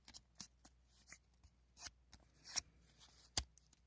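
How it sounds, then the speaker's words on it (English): Origami paper for a cube is folded and creased by hand, giving soft scattered crinkles and sharp little rustles that come up close and quiet. "So I'm going to fold this in."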